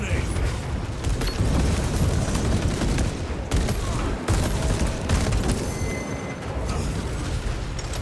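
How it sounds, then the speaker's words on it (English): Frag grenade blast in the Warhammer game Space Marine 2, buried in a dense, continuous din of gunfire, booms and battle noise with no clear pause. "Throwing frag grenade."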